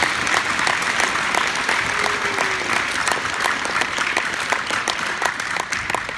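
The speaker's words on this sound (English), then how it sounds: "Let's give them a big round of applause." An audience at a high school assembly applauds, a dense, continuous wash of clapping that holds steady and loud for several seconds, with faint crowd murmur beneath.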